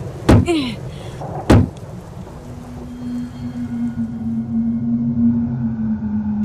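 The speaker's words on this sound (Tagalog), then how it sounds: "sabay naming itinulak ang pinto" A heavy door being shoved open by two people at a hut: two sharp knocks or thuds come first, then a long, low, steady creak drawn out over several seconds, with no talking.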